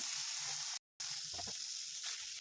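Tomato sizzling steadily in hot oil in a pan while brinjal palya is cooked, a continuous close frying hiss broken by a brief silent dropout partway through.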